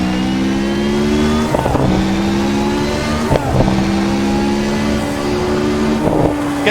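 A Lotus 107 Formula One car from 1992 with an H-pattern shifter, driven steadily around Assetto Corsa laps: a loud, close, buzzing engine note that rises, then breaks at each gear change, about every two seconds.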